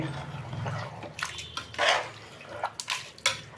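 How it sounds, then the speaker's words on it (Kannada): Water is poured into mutton in a pressure cooker, giving a few faint, brief splashing bursts and trickles with quiet pauses between them. "ನಾನು ನೀರು ಹಾಕ್ಕೊಳ್ತಾ ಇದ್ದೀನಿ"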